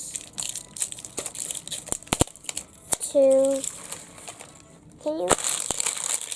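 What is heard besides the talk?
unwrapping plastic wrapping of an LOL Surprise doll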